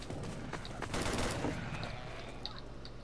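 Video game gunfire rattles in quick bursts of sharp shots, fairly close and loud, over a noisy background with faint chirping tones near the end.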